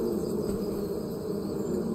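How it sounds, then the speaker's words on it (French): Steady insect buzzing from bees in Farming Simulator 25, a faint continuous drone with a high whine on top, no voices. "Alors, il y a les abeilles."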